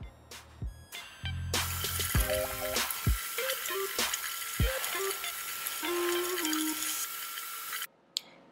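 Tap water runs steadily into a sink for several seconds while bleach is rinsed out of a wig closure, with a few brief clunks and handling knocks before the flow starts and a sharp knock as it stops.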